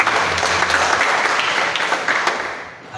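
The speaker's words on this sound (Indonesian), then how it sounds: "Kita berikan tepuk tangan" Applause from a church congregation during a sermon, a steady wash of clapping that carries on for about three seconds before thinning out at the end.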